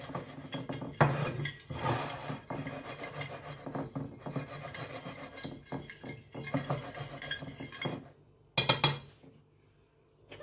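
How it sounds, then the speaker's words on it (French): Ingredients with olive oil being mixed in a bowl, close scraping and rubbing strokes with occasional clinks against the bowl, continuing steadily before a brief pause and a final burst. "Vous mélangez bien le tout."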